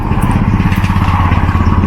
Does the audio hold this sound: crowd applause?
no